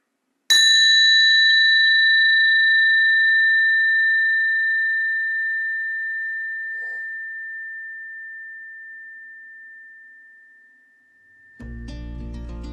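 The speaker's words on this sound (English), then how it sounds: "I'll sound a chime to close our practice." A single meditation chime struck once to close a gratitude practice, a clear sustained ring that decays slowly over about ten seconds, heard alone before another sound cuts in at the end.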